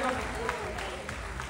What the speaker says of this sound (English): Please start clapping as you are coming.